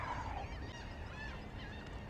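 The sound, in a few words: seagulls calling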